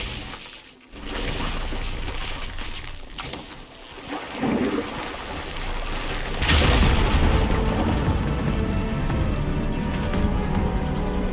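In Horizon Forbidden West, an ignited fire gleam explodes to clear rubble: a deep booming blast followed by crumbling, rushing debris, loud and close, with water or rain-like hiss underneath and no talking.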